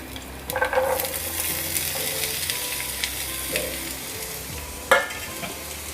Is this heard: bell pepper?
yes